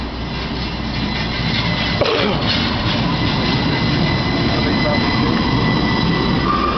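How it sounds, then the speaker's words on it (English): A passing train roars steadily at close range, with rumbling wheels and a faint squeal holding at an even level, and no speech over it. "They just skipped us. There goes my train."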